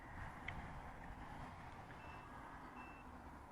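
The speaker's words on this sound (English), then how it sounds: "it's beeping, I better come in and land" A faint electronic warning beep from an FPV quadcopter sounds over a steady, loud rushing drone of wind and motors, with no speech.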